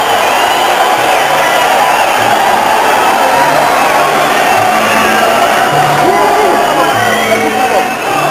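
A big boxing arena crowd roars and cheers continuously, a dense, loud wash of voices with scattered whoops rising above it as a boxer approaches the ring.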